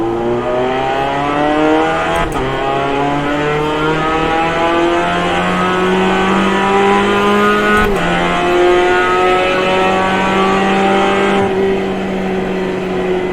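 A GMX5 race car in the iRacing video game on a slow lap at Summit Point, a loud, continuous engine drone that climbs and falls in pitch through gear changes, with short breaks at the shifts.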